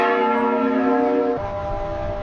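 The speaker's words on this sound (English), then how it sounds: "The tolling bell rang out, marking another day of loss and sorrow for the city." A church bell tolls over fog-bound medieval London in 1348, a sustained ringing tone with layered harmonics that holds, then drops in pitch and fades into a lower hum.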